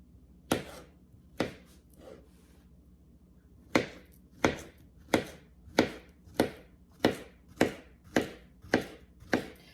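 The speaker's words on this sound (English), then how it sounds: "All right, let's get these bananas sliced up." A knife slices bananas on a cutting board, a few spaced cuts followed by a quick, even series of sharp taps against the board, close and clear with no talking.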